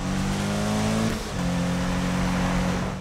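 A car engine in the Need for Speed video game revs steadily and loudly, dips briefly, then holds a high, sustained drone.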